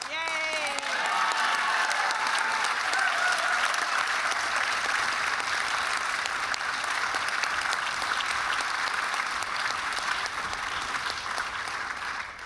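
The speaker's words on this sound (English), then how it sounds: "Now double that applause." Loud, sustained audience applause at the Gerry Frank Amphitheater grand opening, a dense wash of clapping that holds steady for the whole stretch, with a speaking voice briefly heard over it at the start.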